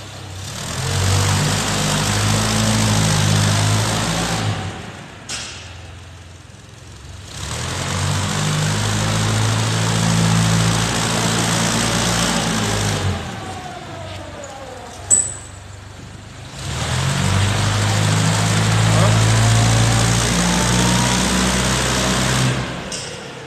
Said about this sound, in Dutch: Even een paar keer gas vol intrappen onbelast.